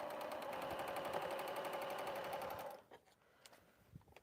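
Sewing machine stitching name badges runs in a steady, fast, close-up whir for under three seconds, then stops, leaving quiet room sound with a few faint clicks.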